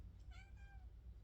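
A cat gives a single short meow, faint and a little distant, over a low background hum in a quiet room.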